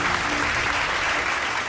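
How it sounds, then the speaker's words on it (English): Loud, steady audience applause for the judges of a cook-off competition show, a dense wash of clapping throughout with a faint voice or tone beneath. "Round of applause for our judges again."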